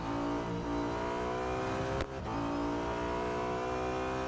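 Audi A5 DTM (2012) race car in Real Racing 3, its engine droning steadily at high revs throughout with a brief dip and shift midway, loud and continuous.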